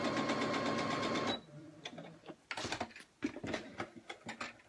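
A sewing machine stitches straight-line quilting on a quilt-as-you-go block, running in a steady, fast whir for about a second before stopping; scattered clicks and handling knocks of the fabric and machine follow.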